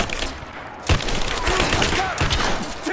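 Gunfire rattles through a firefight in Rise of the Tomb Raider: loud bursts of shots with sharp cracks near the one- and two-second marks, while shouting voices sit underneath the combat.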